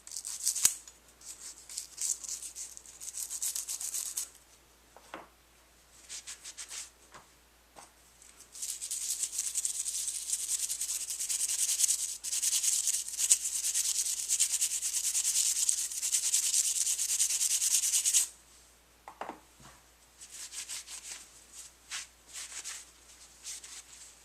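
A double-ended brush scrubs parts of a Kel-Tec SUB2000 rifle, with bursts of close, dry bristle rubbing, a long steady stretch in the middle and short strokes around it.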